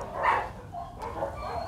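A H'mông bobtail dog barks in a few short, nearby bursts, fairly loud against a low background rumble.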